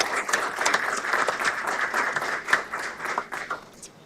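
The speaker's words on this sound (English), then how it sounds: "can we please give Stephanie a round of applause?" A room at a commissioners board meeting fills with steady applause, many hands clapping together at an even level for about four seconds before it thins out at the end.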